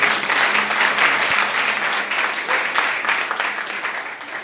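A church congregation applauds in praise during a French-language worship service, sustained steady clapping from many hands filling the room for the whole stretch.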